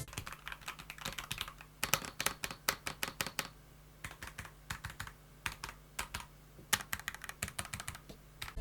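Rapid clicky typing on a HATOR Icefall Mecha Rainbow Wireless mechanical keyboard, bursts of crisp keystrokes with brief pauses between runs, close and clear.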